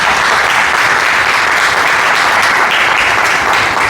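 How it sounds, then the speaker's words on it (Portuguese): A church congregation applauds during a sermon, a dense, steady wash of clapping from many hands that stays loud and even throughout, with no voices rising above it. "Você pode aplaudir a Jesus por isso?"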